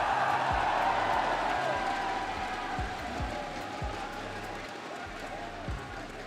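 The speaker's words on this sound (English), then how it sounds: "How have you liked these cheers?" A large crowd cheers at a Dota esports tournament, a sustained roar of voices that starts loud and slowly tapers, with rhythmic thumping and a voice speaking over it.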